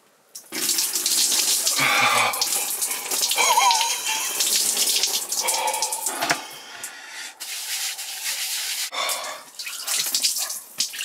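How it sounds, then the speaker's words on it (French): Shower water running in a remote Norwegian cabin without mains water or electricity, a loud steady hiss and splash that starts abruptly, then shifts and fluctuates as the flow hits different surfaces. "C'est parti pour la douche."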